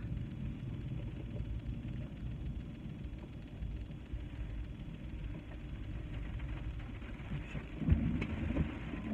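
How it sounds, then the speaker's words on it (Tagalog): Rain falls steadily on a vehicle driving around in Quezon City, a dense continuous wash with low rumble throughout and a slightly louder gust near the end. "It's raining."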